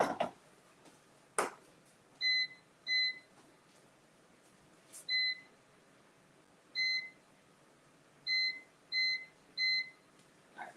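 An air fryer being set to preheat gives a series of short electronic beeps, single and in quick pairs and triples, spaced over several seconds against quiet background with occasional clicks.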